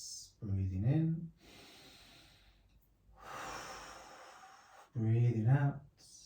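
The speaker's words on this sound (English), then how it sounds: "Breathing in," Slow, audible deep inhalations during a beginner Pilates magic circle exercise, long airy breaths close to the microphone, with brief voiced sighs or murmurs at the start and end.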